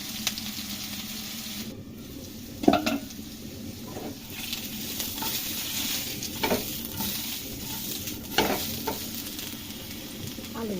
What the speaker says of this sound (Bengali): আলুগুলোকে একটু ভেজে নেব। 1 টেবিল চামচ মতো সরষের তেল দিয়ে দেব। 5 মিনিট মতো ভেজে নেব।